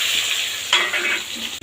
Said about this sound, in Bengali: এই তেলের মধ্যে একটু নেড়ে চড়ে হালকা ভাজা ভাজা করে নেবো